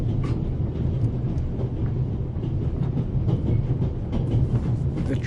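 The Orient Express steam train in The Raven rolls steadily along the track, a continuous dense rumble with faint clattering wheel rhythm, no voices.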